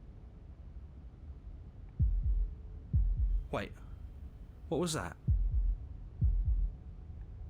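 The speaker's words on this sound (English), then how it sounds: "That was the sound of a heartbeat, followed by another." Low, thumping heartbeats in the Slay the Princess video game pulse steadily in paired beats under a quiet hum, while a voice speaks briefly between them.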